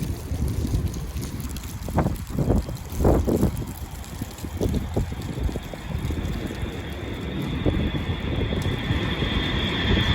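A fighter jet passes overhead outdoors as a steady, broad roar that builds toward the end, mixed with gusty wind buffeting the microphone and no talking.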